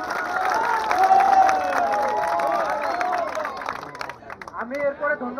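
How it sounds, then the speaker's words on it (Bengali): Spectators at the Monpura Cup football tournament applaud and cheer, a loud, steady wash of clapping and crowd noise that thins out toward the end, with voices mixed into the din. "তো প্রথমে দর্শকের জন্য জোরে একটা করতালি।"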